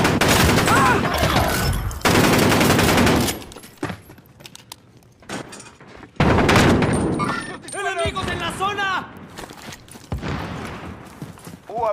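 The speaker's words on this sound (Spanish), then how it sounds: "¡Me están disparando!" Loud bursts of automatic gunfire crackle during a Call of Duty Warzone match, with heavy sustained volleys broken by quieter gaps and scattered shots, while voices speak over the action.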